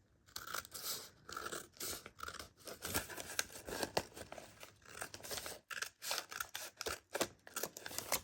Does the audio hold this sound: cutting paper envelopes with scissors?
yes